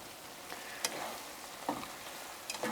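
Chicken fried rice is tossed and mixed in a hot pan, giving a soft continuous sizzle broken by a few brief scraping and stirring bursts, close by with no voices.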